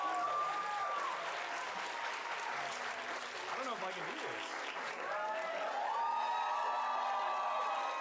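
An audience applauding steadily throughout, a dense wash of clapping with scattered whoops, while someone talks over it.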